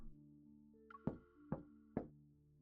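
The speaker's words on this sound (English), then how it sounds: "There's a knock at the door." Three sharp knocks on a door in a video game, evenly spaced and fairly close, standing alone over a low sustained musical tone.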